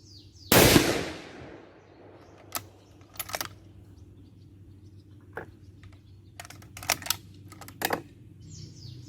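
A scoped rifle fires a single sharp, loud shot at a range during a return-to-zero test, followed by a quiet stretch of scattered mechanical clicks and clacks from handling the gun.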